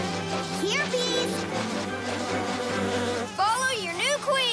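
A cartoon swarm of bees buzzes with a steady, dense droning hum. Whooshing, swooping sound effects and musical tones layer over the buzz, loud and close throughout.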